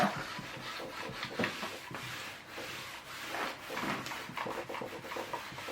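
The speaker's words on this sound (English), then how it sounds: "I'm going to iron them first, get them nice and pressed" A hot iron pressing fabric pieces for a homemade rice heating pad glides over a craft table, making a steady run of dry rubbing, scraping strokes that swell and ease at close range, with no voices.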